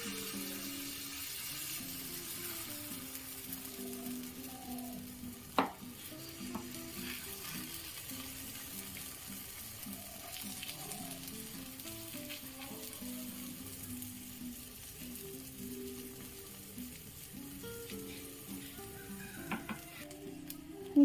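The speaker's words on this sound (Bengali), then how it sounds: "এক চামচ ব্যাটার নিয়ে এর মধ্যে ঢেলে দিচ্ছি।" Batter for aloo paratha sizzles and fries steadily in a hot pan, a soft continuous crackle with a couple of sharp utensil clicks, close and without talk.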